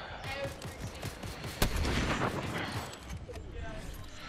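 Video game gunfire in an online team match, a mix of rapid distant shots and one sharp loud crack followed by rumbling, with muffled player chatter underneath.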